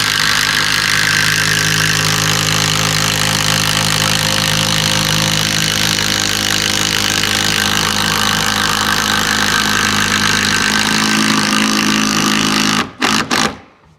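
A power driver runs long tech screws through a timber roof into a 3x2 frame on a garden studio build, a loud continuous motor drone that holds steady for about thirteen seconds, then cuts off with a few short bursts.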